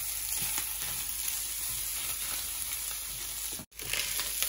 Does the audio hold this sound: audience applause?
no